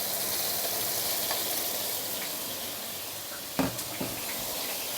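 Chili paste sizzles steadily in hot oil in a wok, cooking for mee goreng pedas; a broad, even frying hiss continues throughout, with a couple of brief stirring clacks near the end and no voices.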